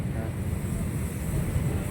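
Strong waves washing against the Manila Bay Walk shore, where the water is choked with water lilies, roar as a steady, loud, broadband rush mixed with wind buffeting the microphone, continuous throughout.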